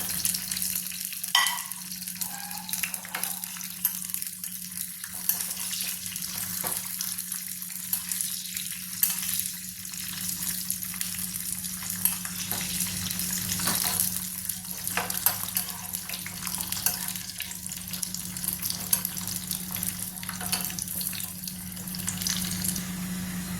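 Cashews and raisins frying in a pan for wheat payasam give a steady, close sizzle with stirring scrapes throughout, under a constant low hum.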